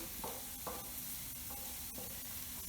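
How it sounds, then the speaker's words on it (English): Onion sautéing in a pan gives a faint, steady sizzle under a low background hum, with a few soft stirring clicks and scrapes, no voices. "So the onion is sauteing and it's like golden to brown."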